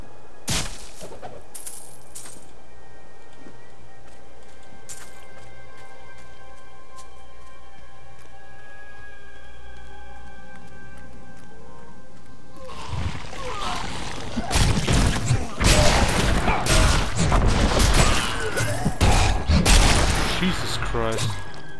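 A monk in Diablo 3 unleashes a skill attack that strikes multiple enemies in a row, first sparse game sounds, then a loud rapid barrage of blasting impacts and bursts lasting several seconds.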